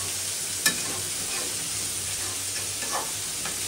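Chicken and potatoes stir-fried as kosha in a pan, giving a steady sizzle under light stirring scrapes, with one sharp clink near the start and soft spatula scrapes toward the end, no one speaking.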